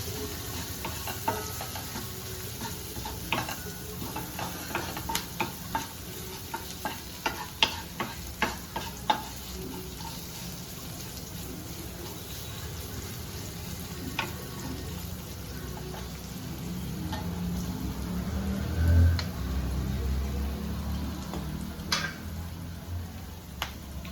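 Chopped green chillies sizzle in hot oil as a tempering for chole masala. There is a steady frying hiss with scattered pops and crackles, and occasional stirring scrapes, heard close with no talking.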